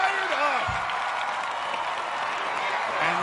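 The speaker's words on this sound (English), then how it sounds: "And this crowd is fired up" A fired-up crowd cheers and applauds at an American Ninja Warrior course, a steady broad roar that stays loud and continuous throughout, with a few whistles and shouts riding on top.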